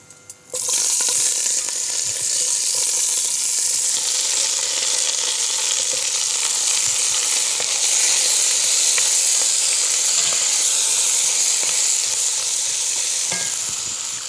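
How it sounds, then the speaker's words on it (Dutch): Sliced vegetables, fennel among them, sweating in a pan for bouillabaisse: a loud, steady sizzle starts abruptly and holds throughout, with occasional stirring scrapes. "Dus onze groenten zijn gesneden en die gaan we nu aanstoven."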